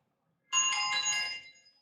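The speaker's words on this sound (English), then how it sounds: "That is my alarm." A phone alarm ringtone sounds as a single bright, melodic chiming burst of about one second, clear and fairly close, with no talking over it.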